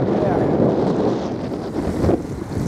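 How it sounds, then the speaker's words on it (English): Strong wind roars across the microphone on a sailboat at sea, with a dense, buffeting rush and the wash of waves beneath it, steady and close. "It's still blowing a howly."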